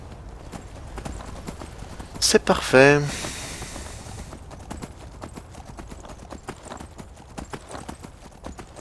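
Horse hooves clip-clop in a steady run in the video game Skyrim, with a brief loud burst of game sound partway through and someone speaking French over it.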